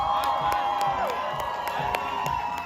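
A crowd at a concert cheers and claps for a band member, a fairly faint, continuous wash of voices with scattered sharp hand claps.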